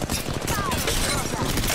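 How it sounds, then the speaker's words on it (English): Rapid gunfire in an Apex Legends Mobile firefight, a dense continuous burst of shots filling the short moment at close range with game sounds layered over it. "Listen up, I'm getting shot at."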